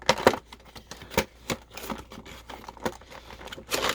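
Plastic packaging crinkles and tears in a run of short, sharp bursts as a Marvel Legends Nightcrawler figure is pulled free, loud and close with brief pauses between.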